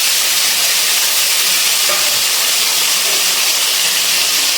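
Chopped tomato frying in hot oil and being stirred for a drumstick and potato curry. A loud, dense, unbroken sizzle and hiss holds steady close up throughout, with no voices.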